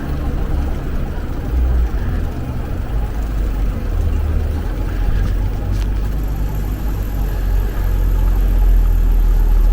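A Porsche 911 sports car passes on a Tokyo street at night near Tokyo Tower in Azabu, its engine a steady mid-range rumble over dense low traffic noise, loud and close throughout without a sharp peak.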